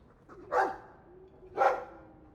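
A Mabari hound in Dragon Age 2 gives two distinct barks about a second apart, close and clear over a faint low background hum.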